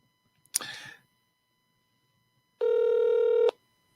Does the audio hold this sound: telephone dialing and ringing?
yes